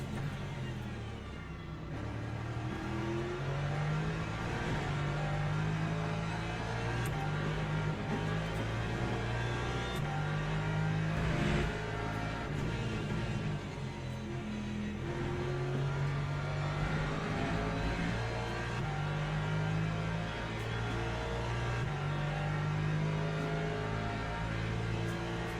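Lexus race car in the Le Mans Ultimate sim racing game, a steady droning engine note holding at a constant pitch with slight rises, heard from onboard at moderate loudness for the whole stretch with no talk.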